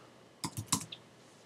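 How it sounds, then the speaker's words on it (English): Keys on a computer keyboard are tapped as a short title is typed into iMovie, making a few quick, soft clicks in an uneven cluster against a quiet background. "You can just start typing here"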